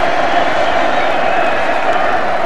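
A packed stadium crowd at the 1985 Rugby League Challenge Cup roars and cheers in a dense, steady wall of sound that holds loud and unbroken throughout.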